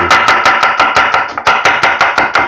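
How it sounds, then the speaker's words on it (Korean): A knife chops steadily on a wooden cutting board while food is prepared for japchae, a Korean holiday noodle dish, giving a fast, even series of crisp, close, loud knocks with no voices. "요리할 때 이렇게 도마에 울리는 소리가 저는 너무 좋은 것 같아요"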